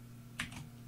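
One or two quick key taps on a computer keyboard while a project name is entered, very brief and faint over a low steady hum.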